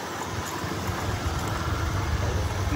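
A motorbike or scooter rides a rough off-road hill track on Devchuli Danda in Nawalpur, its engine a steady, close drone blended with constant wind rush and no pauses.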